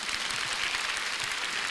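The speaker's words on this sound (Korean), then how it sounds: "박수 한번 부탁드리겠습니다" Steady applause from a church congregation at a Friday prayer service, a dense even wash of many hands clapping, moderately loud and continuous with no voices.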